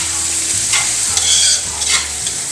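Garlic sizzles hard in a hot pan for chao fan, a loud continuous frying hiss with scraping stirs of the spatula breaking through, with no talking.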